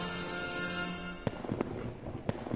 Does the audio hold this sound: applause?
no